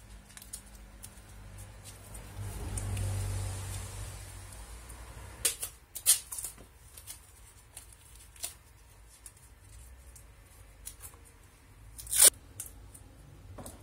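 Quiet snips and crisp tearing sounds of tape being cut for masking a Booster scooter fork, a few sharp clicks spread out with soft rustling between them.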